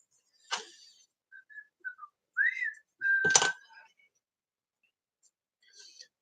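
A man whistles Rudolph the Red-Nosed Reindeer in a quiet room, with short, soft melodic phrases broken by a few sharp clicks and small handling noises.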